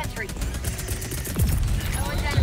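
Mortar strikes in the video game Helldivers 2, a rapid clatter of muffled explosive bursts and crackling impacts layered over each other, with a voice talking underneath.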